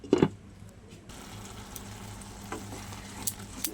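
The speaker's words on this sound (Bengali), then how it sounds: "পালং শাকের তরকারি হচ্ছে বন্ধুরা।" Spinach curry sizzles softly in a pan, with a brief stirring clatter at the start, then a steady low frying hiss with a few faint scrapes.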